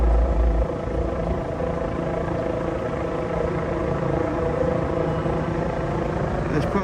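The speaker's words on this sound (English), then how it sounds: "There's the helicopter right there." Helicopter flying over a downtown Los Angeles May Day protest, a steady low rotor and engine rumble that stays continuous and moderately loud throughout, with faint background crowd and street noise.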